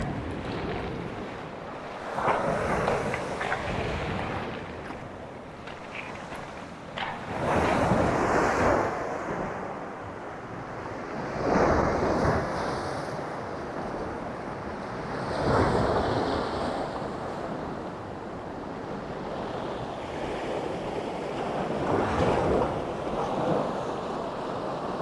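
Surf washing onto a beach shoreline on a moody afternoon, with steady close roar and several distinct swells building and breaking every few seconds, wind buffeting underneath, no voices.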